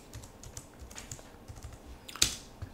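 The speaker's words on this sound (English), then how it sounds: "Now I can type in apt install." Keys clatter on a computer keyboard in a quick, irregular run of soft taps at close range, ending with one sharper, louder keystroke, with no voices.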